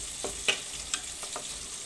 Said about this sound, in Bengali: আমি এভাবে সুন্দর করে ভেজে রেখে দেব।